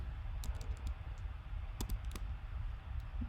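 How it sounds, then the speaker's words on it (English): Keys clatter on a Mac computer keyboard in short, uneven bursts of typing Java code, close by against quiet background hiss. "So inside I am typing hello world"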